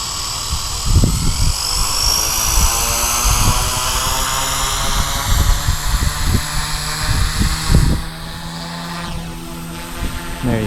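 A Blade 150S RC helicopter spools up after a servo replacement, its rising rotor whine and whirring blade chop steady and close, with thumps and handling knocks over the motor tone.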